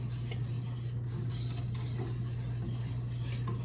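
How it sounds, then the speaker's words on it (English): A utensil stirs liver gravy in a pan as it thickens, making scattered scraping clinks and soft clatter over a steady low hum in a home kitchen. "you're just going to keep stirring this until it thickens"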